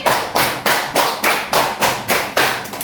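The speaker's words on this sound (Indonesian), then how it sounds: "Tepuk 3 kali." Hands clap in a steady, even rhythm during a classroom lesson, with about nine sharp, loud claps spaced roughly a third of a second apart, each ringing briefly in the room. No voices are heard.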